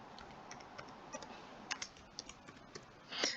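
Light typing on a computer keyboard while entering data into an Excel spreadsheet, a soft scattered run of key clicks with a slightly louder cluster near the end, close and quiet, with no talk.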